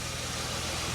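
A Jaguar X-Type car engine idles with a steady, close, low mechanical hum and even pulsing throb that holds without a break.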